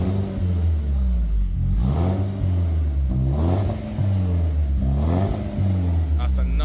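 A BMW E36 engine revs hard about three times with its electronic exhaust valve open, each rise a deep, throaty surge that falls back to idle, while people talk between the revs.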